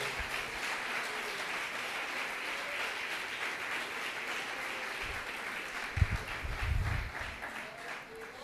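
Congregation applauding during an evening church service, a steady wash of many hands clapping at moderate distance, with a few low thumps toward the end.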